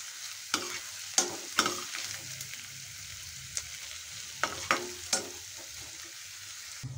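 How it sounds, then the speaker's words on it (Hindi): Onions frying in a pan for saag, a steady soft sizzle broken by several sharp spatula scrapes and clinks against the pan, close and alone with no voices. "प्याज अपने लाल हो गए थोड़े थोड़े, और थोड़ा एक अद्धा मिनट इन्हें भुनांगे"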